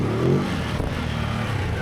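A Ducati Hypermotard 950 motorcycle engine revs with a rough, rumbling growl that swells briefly and then settles into a steady loud drone as it pulls away near a fuel station.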